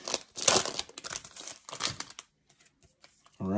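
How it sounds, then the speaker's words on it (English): A foil Topps Gallery baseball card pack torn open by hand: sharp crinkling and ripping bursts up close for about two seconds, then near silence before a voice starts. "Let's open up the first pack."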